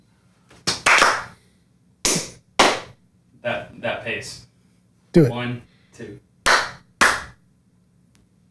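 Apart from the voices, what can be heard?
hand clapping to switch a clap-activated light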